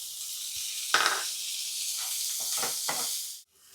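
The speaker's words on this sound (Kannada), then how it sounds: "ಒಂದು ಟೊಮೊಟೊ ಹಣ್ಣು ದಪ್ಪಗೆ ಹಚ್ಕೊಂಡಿದ್ದೀನಿ, ಅದನ್ನು ಫ್ರೈ ಮಾಡ್ಕೊತಾ ಇದ್ದೀನಿ" Thickly chopped tomato frying in a pan: a strong, continuous close sizzle with a few short louder hisses and stirring bursts that cut off abruptly near the end.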